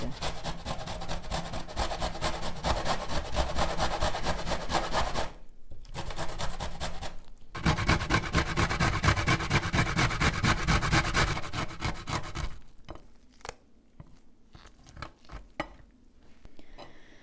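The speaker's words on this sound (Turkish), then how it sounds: "Rendenin şöyle ufak tarafıyla bunu rendeleyeceğiz güzelce" Food is rubbed over the fine side of a metal grater in steady, rapid rasping strokes, broken by two brief pauses before quieter, scattered scrapes near the end.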